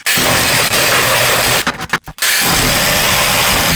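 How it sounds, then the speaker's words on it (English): A Sawzall reciprocating saw cuts material supported on steps used as a makeshift sawhorse, a loud continuous buzzing drone that runs close and steady, pauses briefly with a few stuttering bursts, then resumes. "The Sawzall."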